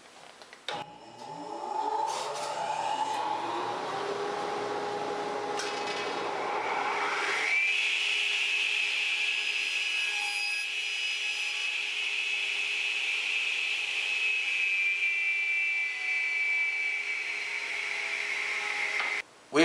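A radial arm saw making a bevel cut spins up with a rising whine, then holds a steady high motor drone with a scraping cut through wood, continuous and fairly close for nearly twenty seconds.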